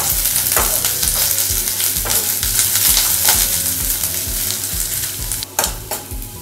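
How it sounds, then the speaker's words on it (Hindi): Onion, garlic and a piece of ginger fry in a hot pan for a Bidadi thatte idli dish, a loud, steady sizzle with rhythmic stirring scrapes throughout and no talking. "एक इंच अदरक का टुकड़ा, अच्छी तरह से फ्राई कर लेते हैं, अनियन हल्का ट्रांसपेरेंट हो जाए"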